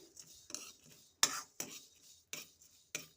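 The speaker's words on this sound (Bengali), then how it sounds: "ডালটা খুব একটুকুভাবে হালকাভাবে ভেজে নিতে হবে শুকনো কড়াইতে" Mung dal being dry-roasted in a dry wok, with a spatula scraping and stirring in short separate strokes, about seven quick rasping scrapes close up.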